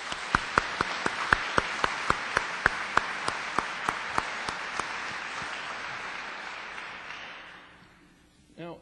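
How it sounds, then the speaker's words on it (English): A keynote conference audience applauds its vendors. Crisp, rhythmic claps stand out over a broad wash of crowd clapping, which gradually thins and fades to near silence. "I want you to show your appreciation by clapping for them right now."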